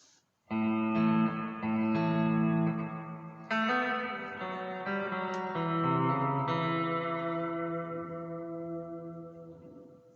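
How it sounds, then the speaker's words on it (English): A guitar plays turnaround notes together, a few sustained chords struck one after another and left to ring, clean and close with a slight echo and no talking. "So it sounds like this when you play them all together."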